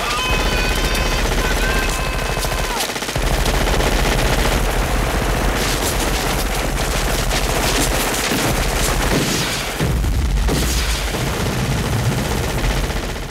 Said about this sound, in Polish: W ekranowym Predatorze jest scena, w której bohaterowie strzelają wszystkim,